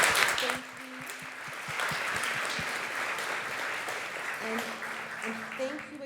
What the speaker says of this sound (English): So let's give our speakers just another round of applause.